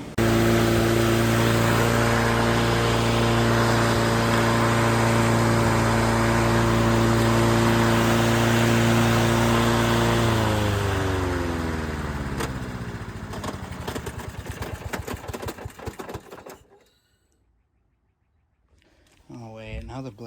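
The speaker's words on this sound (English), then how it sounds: "now the blade's spinning because I disengaged the return spring" A Honda HR21 walk-behind lawn mower runs with its blade spinning, a steady loud engine drone that winds down and cuts out near the end, then a brief restart of noise.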